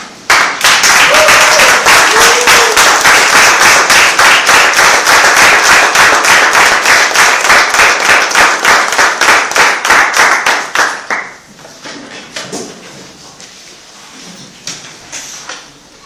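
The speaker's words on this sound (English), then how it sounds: "I would request you all to stand up and give him a rising applause." A standing ovation at a speech club award ceremony, with loud, rapid, dense clapping for about eleven seconds before it thins to scattered claps and fades.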